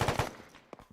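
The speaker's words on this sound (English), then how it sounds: "Machine gun." A .50 cal heavy machine gun fires in Arma 3: a quick burst of three close, punchy shots that die away, followed by a single fainter pop.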